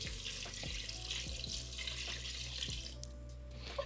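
Beef broth pours into a stew pot in a continuous liquid splash. Faint clinks can be heard under the pour, and the sound stays close and soft throughout.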